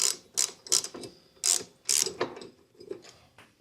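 A ratchet wrench clicks while loosening bolts on a bracket of a Husqvarna AWD riding mower. It turns in several short bursts of ratcheting clicks, close and fairly crisp, with brief gaps between the strokes and no one speaking.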